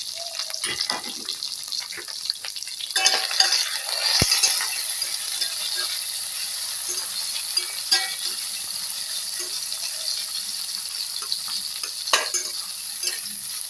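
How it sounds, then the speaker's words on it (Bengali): Chopped onions with a little salt sizzle steadily in a pan while a spoon stirs and scrapes through them, with occasional clinks, close and fairly quiet. "পেঁয়াজগুলো দিয়ে আমি একটু এভাবে নাড়াচাড়া করব।"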